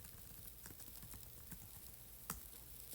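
Soft, quick keystrokes on a computer keyboard tap along steadily and faintly, with one sharper click near the end, while someone enters values into spreadsheet cells.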